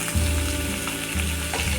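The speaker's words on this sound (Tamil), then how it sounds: "பொடியாக கட் பண்ணி வச்ச ஆனியனை சேர்த்துக்கலாம்" Finely chopped onions hit hot oil already holding mustard seeds, lentils and dried red chillies for a dosa side dish, giving a loud, close, bubbling sizzle that swells twice as they are stirred.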